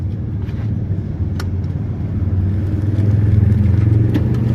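A 1995 Opel Vectra with leaking fuel hoses starts up and idles, its engine settling into a steady, close, fairly loud low rumble that grows slightly fuller toward the end.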